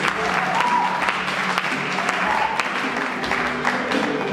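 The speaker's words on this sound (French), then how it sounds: "On applaudit encore les Juifs." Audience applause at a live Bukavu Mosaïque show, dense steady clapping from a crowd that holds a loud, even level for several seconds.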